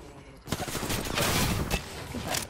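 Rapid gunfire from a console shooter video game rattles in a loud, dense burst of overlapping shots that runs continuously from the first half-second onward.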